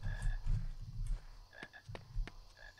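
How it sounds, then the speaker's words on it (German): A frog croaks in the Harry Potter and the Philosopher's Stone video game, giving several short, separate croaks against quiet ambient game sound. "Ich höre noch einen Frosch."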